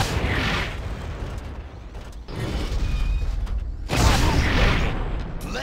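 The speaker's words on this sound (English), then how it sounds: "Imagine I, like, blow a hole in the wall or something." Explosions blasting through a wall in Red Faction 2: two heavy booming bursts with rumbling debris, separated by a quieter stretch of creaking mechanical noise, loud and close with no voices.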